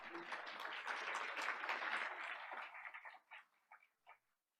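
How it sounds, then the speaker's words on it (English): Audience at a Board of Education meeting applauds an award winner. Dense, fairly faint clapping that thins out into a few scattered final claps before fading to quiet. "Let's give her a round of applause."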